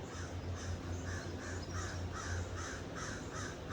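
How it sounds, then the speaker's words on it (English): Several crows caw in a steady series of harsh calls over open fields, fairly faint and somewhat distant against a constant background hiss. "by the sounds of multiple crows"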